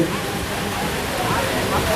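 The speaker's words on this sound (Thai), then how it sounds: "ฝนเนี่ยตกลงมาค่อนข้างจะหนักครับ" Heavy rain pours down in a dense, steady roar with a sloshing, rushing texture throughout.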